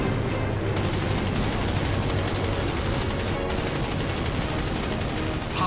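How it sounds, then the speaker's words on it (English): An A-1 Skyraider's aircraft cannon pouring high-explosive rounds at a MiG in a Vietnam War dogfight, a continuous, loud, rattling roar of fire that barely drops for the whole stretch. "High-explosive rounds punish the MiG."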